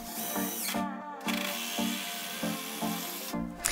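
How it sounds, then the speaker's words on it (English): A power drill drives screws into shelf supports for garage storage shelves, with short whirring bursts broken by brief pauses as each screw bites into the wood, close and fairly loud. "and then we're just going to screw those in."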